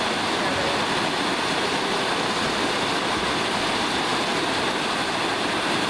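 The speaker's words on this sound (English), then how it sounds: "Not much of a waterfall." A small woodland waterfall rushes in a steady, dense wash of noise, close and constant throughout with no pauses.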